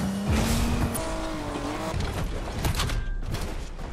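A car engine in the video game Fortnite revs and roars loudly alongside tire squeals and skidding, with bursts of rapid gunfire mixed in, all close and busy.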